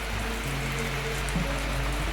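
Heavy rain falls onto a veranda in an even, unbroken wash of patter and hiss, close and steady with no voices.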